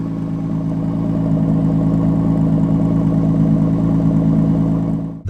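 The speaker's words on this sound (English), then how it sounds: "this is the first time I'm doing a cold start in the new exhaust setup" A Honda Accord V6 coupe with a new exhaust setup, P2R manifold spacer and ported runners idles steadily and loudly right after a cold start, a deep continuous rumble that cuts off abruptly at the end.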